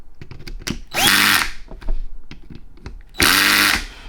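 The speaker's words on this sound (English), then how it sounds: "you're going to hear it make a funny sound. It's because the clutch is letting off." A Matco MT2120 3/8-inch air impact wrench fires in two loud, close bursts of buzzing hammering, each ending as the clutch lets off, with sharp clicks and taps between the bursts.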